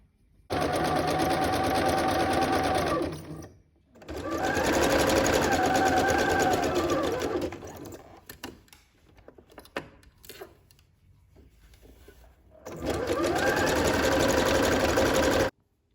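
A domestic sewing machine zigzag stitching elastic into a skirt waistband runs in steady whirring bursts, stopping and starting as the sewer pauses between pins, with quiet handling noises in the gaps.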